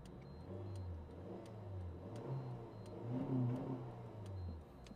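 A 2009 Honda Accord's engine idles steadily with a low, even rumble and a slight rise midway, heard from close by with no talk over it.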